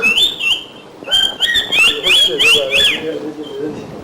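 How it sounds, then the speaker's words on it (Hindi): A Pakistani parrot gives a series of sharp, high squawks and chirps close by, with people talking underneath. "ये पाकिस्तानी और पाकिस्तानी तोते की आवाज"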